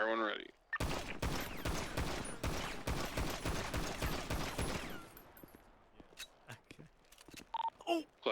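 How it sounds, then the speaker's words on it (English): Rapid pistol gunfire on a police academy firing range in a roleplay video game, with a dense string of sharp shots in quick succession that stops abruptly, followed by a few scattered clicks and brief voices. "Aim down range, deep breath, exhale, flashlight on, fire when ready."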